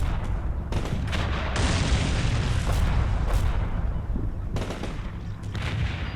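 Artillery fire in the Combat Mission Cold War video game, heard as a continuous roar of booming impacts and gunfire with louder bursts standing out.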